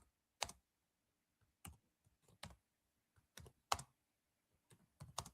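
Typing on a keyboard in a quiet room, sparse individual keystrokes clicking irregularly, some in quick pairs, separated by short silent gaps.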